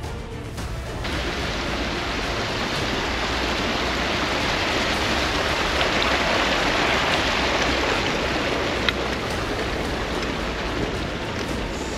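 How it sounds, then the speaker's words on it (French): Steady rain falls on a mountain walk near the Col du Portet, a dense, even hiss of drops that holds loud and unbroken throughout, with no voices. "il commence à pleuvoir"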